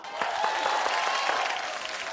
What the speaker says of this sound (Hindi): तो जोरदार तालियों के साथ उनका स्वागत कीजिए